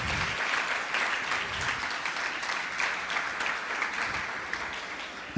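Audience at a Sunday devotional program in Toronto gives a round of applause for the devotees, with dense, sustained clapping from many people that holds steady and then ends on a sharp thump.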